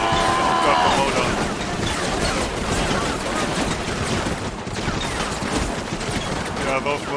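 Mortar and rifle fire in the video game Combat Mission: a steady barrage of crackling gunshots and heavy thudding impacts, dense and continuous, with a faint tone near the start.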